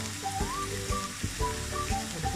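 Small shrimp sautéing with salt in a hot pan give off a continuous soft sizzle, with light crackles and faint clinks from stirring over a steady, close hiss.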